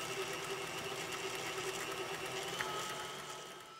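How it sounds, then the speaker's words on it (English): An electric mixer beats cream cheese pound cake batter with a steady motorized whir and faint rhythmic rattling, holding at an even moderate level throughout with no talking. "we're going to beat that for another 3 to 4 minutes until it starts to get blended and again creamy"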